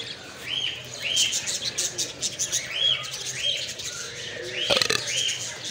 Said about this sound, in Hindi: पैरेट्स बहुत ही प्यारे हैं ये